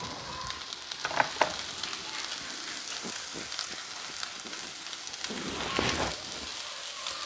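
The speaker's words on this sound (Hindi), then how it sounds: "सोया चंक्स जो है वो थोड़े से कुक हो जाते हैं थोड़ा सा मिक्स हो जाते हैं थोड़े क्रिस्पी हो जाते हैं" Soya chunks fry in a pan with a steady, close hiss and sizzle, broken by scattered pops and crackles over several seconds, with no voice.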